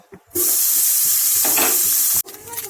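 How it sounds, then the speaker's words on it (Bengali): Chhana frying in ghee in a wok gives a loud, steady broadband sizzle that cuts in abruptly and holds for about two seconds. A few soft scrapes come before it, and it drops away sharply at the end. "এবারে ওই কড়ার মধ্যে ছানাগুলোও ভেজে নেব।"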